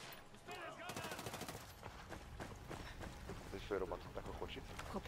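Gunfire in the Ghost Recon Wildlands open beta co-op game, rapid automatic bursts with clustered sharp shots, heard under ongoing chatter and game noise.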